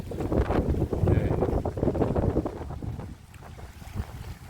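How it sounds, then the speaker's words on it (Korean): Strong gusty wind buffeting the microphone at a seaside breakwater during float fishing for mackerel in heavy swell, a loud rumbling roar that surges and eases unevenly, dropping somewhat toward the end. "바람은 점점 심하게 부네요."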